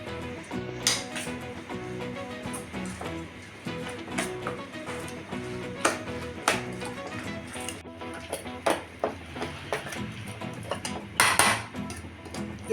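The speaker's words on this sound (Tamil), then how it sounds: "இப்போ இது எல்லாத்தையும் நல்லா மிக்ஸ் பண்ணிக்கணும்" Batter with salt and drumstick leaves is mixed by hand in a bowl, producing steady close clinks and scrapes against the bowl with short irregular knocks throughout.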